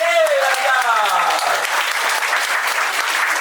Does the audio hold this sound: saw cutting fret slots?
no